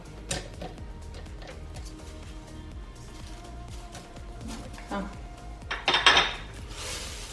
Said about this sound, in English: And just stir those in until they're evenly incorporated.